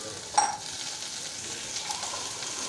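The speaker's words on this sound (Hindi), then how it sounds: "जब तेल खूब अच्छे से गर्म हो जाएगा तब हम उसमें लहसुन और अदरक डाल देंगे" Garlic and ginger dropped into well-heated oil for chilli paneer, giving a brief loud sizzle burst that settles into a steady, moderate frying hiss.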